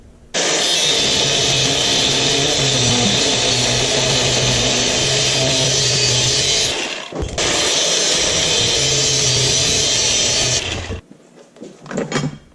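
Cutting through a Ford F350 front-end ball joint during a front suspension rebuild: a loud, steady metal-cutting roar runs about ten seconds, breaks briefly near the middle, then cuts off into quiet shop noise.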